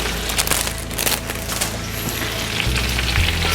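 Fresh washed, cut greens frying in a bacon, onion and garlic mixture, a loud steady sizzle with crackles and a low rumbling hum underneath, no talking.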